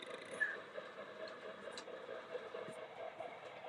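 An MTH Union Pacific model train runs with a faint, steady rolling hum and light clicking on the track, with people talking softly nearby.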